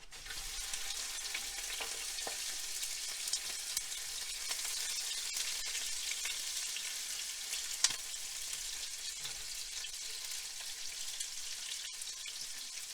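Oysters and bacon frying together in a hot pan, a steady dense sizzle with faint crackles and an occasional pop, holding level throughout with no talking.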